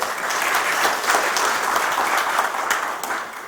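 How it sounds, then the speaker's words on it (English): An audience at a maritime shipmanning and training summit applauds in a dense, steady wash of clapping that stays loud for the whole stretch, with no talking over it. "let's give a round of applause for ourselves here"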